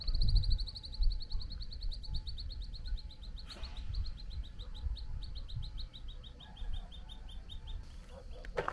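A bird sings outdoors in repeated rapid chirping phrases, clear and fairly close, over a low rumbling background.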